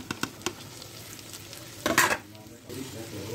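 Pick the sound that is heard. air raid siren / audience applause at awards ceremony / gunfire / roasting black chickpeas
roasting black chickpeas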